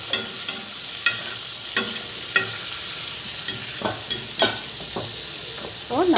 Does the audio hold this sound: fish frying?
yes